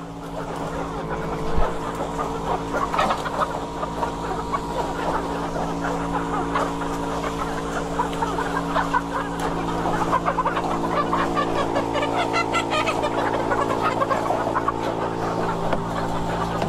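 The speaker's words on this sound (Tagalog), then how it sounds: "Nabubulabog yung mga manok dahil ayaw nila yung maingay" Chickens in a coop during disinfection clucking and squawking continuously over a steady mechanical hum, with a brief sharp knock near the start.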